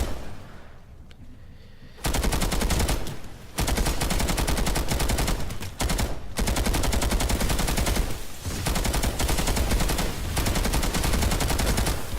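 Rapid video game gunfire from a T9 Carver-style weapon with a double-size magazine, loud and close, in long sustained automatic bursts broken by brief pauses.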